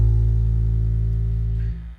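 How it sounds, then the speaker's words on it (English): A single low note rings on a four-string bass guitar, a deep sustained hum that holds steady, then is cut off near the end, heard alone and close. "so you get a very low bassy sound like this."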